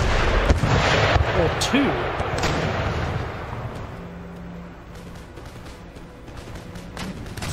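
Cannon fire in a siege battle at Madrid in the Empire Total War strategy game: a loud barrage of booming artillery blasts over the first few seconds, then fainter scattered shots, with someone talking over it.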